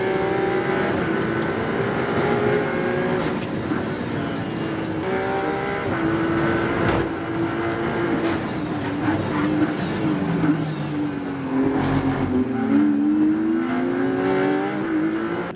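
Race cars, including Ferraris, roar past on the Portimão circuit in continuous loud engine noise, with pitch rising and falling as several cars accelerate, shift gears and pass close by.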